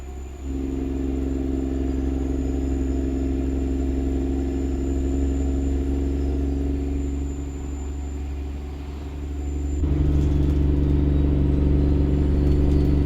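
A truck engine with an 18-speed gearbox in American Truck Simulator hums steadily at a low idle, then dips and swells as the revs rise after a shift, a close, continuous rumble with no talking.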